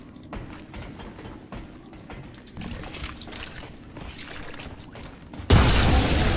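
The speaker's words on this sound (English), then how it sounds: "Shotgun blast." A shotgun blast fires in the video game Remnant: From the Ashes. Low, busy game rumble is broken near the end by a sudden loud burst that carries on to the close.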